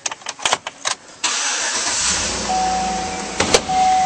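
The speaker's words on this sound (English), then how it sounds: "Now we'll start up this vehicle." A 2011 Chevrolet Tahoe engine cranks over with a few quick starter clicks, then catches and settles into a steady, close idle, with a brief mechanical blip near the end.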